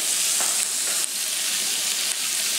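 A salmon steak sizzles steadily in a grill pan on a low grill, a constant loud frying hiss with faint clicks of a spatula.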